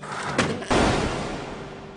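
A door slides or slams in an animated Naruto scene, with two sharp thuds about half a second apart and a brief clatter at the end, heard loud and close.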